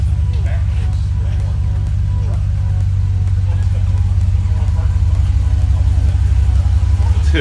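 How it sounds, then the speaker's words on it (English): The turbocharged built motor of a 2014 Jeep SRT8 rumbles on a dyno, a deep and steady low drone that grows slightly louder toward the end, with faint voices in the background. "we're gonna move this thing on the dyno over there, and we're gonna see what kind of power we pick up and what it sounds like"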